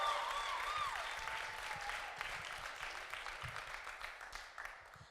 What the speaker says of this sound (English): Clap it up for Ife!